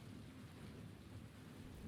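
Steady rain pours with a low rolling rumble of thunder in a thunderstorm, continuous and dense with no voices present.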